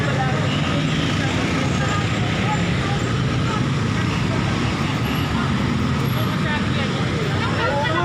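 Steady road traffic noise from passing motor vehicles on a busy street, a continuous broadband roar that fills the whole stretch without breaks.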